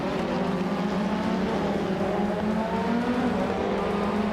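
Pack of race cars roaring off the line at a short-track speedway in a racing video game, led by a 1988 Mitsubishi Starion; a dense, steady engine drone with overlapping revs, loud and close throughout.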